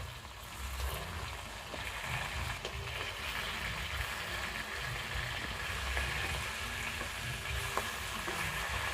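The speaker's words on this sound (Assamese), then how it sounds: "মাছখিনি আমি ৰঙাকৈ ভাজিম" Clown knife fish (chital) sizzling in oil, a dense, even crackle with low rumbling underneath and scattered pops, continuous and close, no talking.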